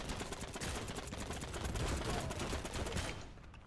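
Fast bursts of gunfire from a light tank in the World War II shooter Heroes and Generals rattle in a dense, rhythmic stream, fading out near the end.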